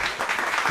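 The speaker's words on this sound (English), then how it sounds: "y'all clap it up for him" A group of people clapping briefly in a casual sports talk setting, a quick burst of overlapping claps close by and fairly loud.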